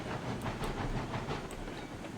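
Heavy train rolling steadily in the RailRoads Online game, a continuous rumbling drone with soft rhythmic clatter and faint hissing throughout, close and fairly loud with no talking.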